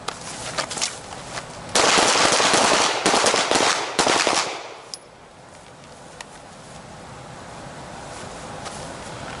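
Handgun shots during a defensive drawing and shooting drill outdoors, a rapid volley of sharp cracks close and loud, followed by quieter isolated shots over wind noise, with no talking.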